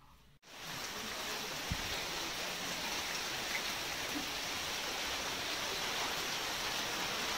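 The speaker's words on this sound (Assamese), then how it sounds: "বৰষুণ দি আছে" Rain falls steadily in a broad, even hiss on surfaces nearby, starting after a short quieter moment and continuing without a break.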